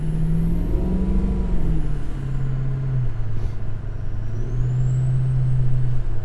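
A 6.0 Powerstroke diesel truck runs loud and close, its engine holding a steady low drone that shifts in pitch as it revs, with a high whine on top.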